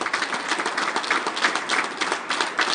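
A crowd at a senior finals competition applauds a judge, with steady, close, dense clapping throughout the short burst.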